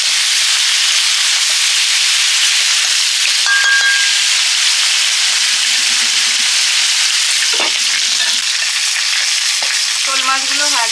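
Shol fish pieces fry in a pan of oil, a loud continuous sizzle and crackle with occasional stirring and scraping sounds throughout.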